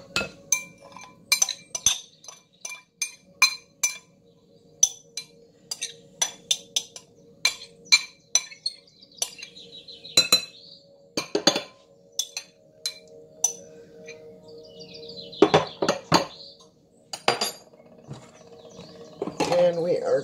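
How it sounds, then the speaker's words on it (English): A spoon mixes shredded cheddar cheese into biscuit dough in a bowl, giving bright, irregular clinks and scrapes against the bowl in quick clusters, with quiet pauses between them. "I have cheddar cheese here, and I'm just going to dump it all in"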